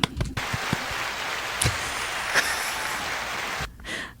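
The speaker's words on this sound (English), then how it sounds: "Applause button." A canned applause effect fired from a soundboard button during a podcast, a burst of crowd clapping that swells briefly and cuts off after a few seconds, with a small vocal sound near the start.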